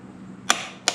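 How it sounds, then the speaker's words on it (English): The clutch on a Harley-Davidson M8 motorcycle gives two sharp, close mechanical clicks about a third of a second apart over a faint steady background hum. "You heard the click?"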